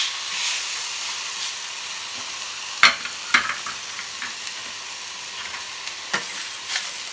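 A slice of spiced pork ham grills on a hot plancha, giving a constant, close hissing sizzle broken by a few sharp spatters and pops.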